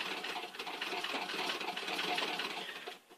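A treadle sewing machine stitches a quilt with a fast, steady mechanical whir and rhythmic clatter, fairly quiet and close, slowing and stopping at the end.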